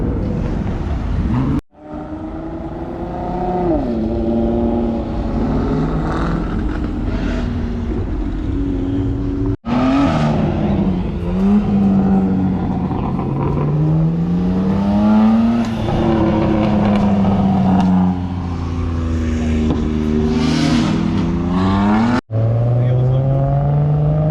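A turbocharged car engine at a car meet revs and rises and falls in pitch over a long stretch, loud and close, with people talking under the engine noise.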